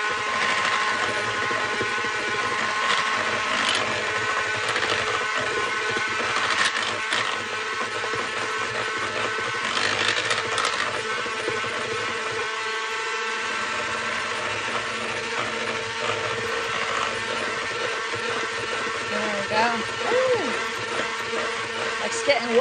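A cake batter being mixed fast in a bowl with a steady whirring, mechanical churn that runs continuously throughout, with someone talking over it.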